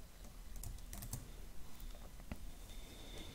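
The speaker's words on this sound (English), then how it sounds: "I'm just going to type something here." Quick, steady keystrokes on a computer keyboard fill a few seconds of rapid typing, close and fairly quiet, with sharper clacks standing out now and then and no talking over it.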